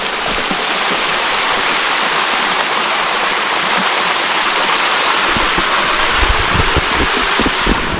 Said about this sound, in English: There's a mini waterfall here as well.